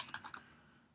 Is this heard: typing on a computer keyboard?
yes